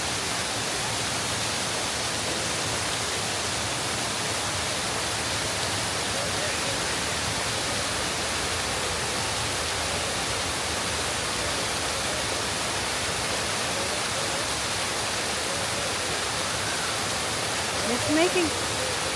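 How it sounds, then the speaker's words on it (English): A loud, steady roar of a waterfall at the San Diego Zoo, constant rushing water filling the whole clip. "the sound of the waterfall is too loud"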